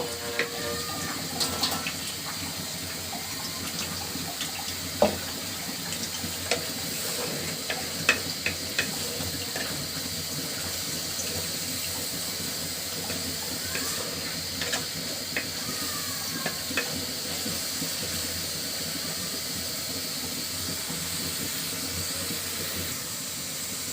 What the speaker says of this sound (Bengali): মশলা থেকে যতক্ষণ পর্যন্ত তেল না বের হবে ততক্ষণ পর্যন্ত আমি কষাতে থাকবো।